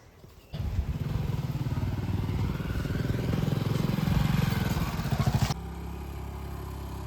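A motorcycle engine kicks in abruptly and chugs loudly nearby for about five seconds, rising slightly, then cuts off to a low background hum.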